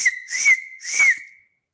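Someone gives a loud, shrill whistle with fingers and a folded tongue, close up: three steady high-pitched blasts with breathy hiss, the last one trailing off into silence.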